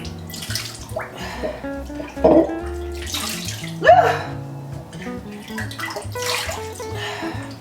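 Running water rinsing in a bath, splashing and pouring irregularly in close, moderate bursts with no talk.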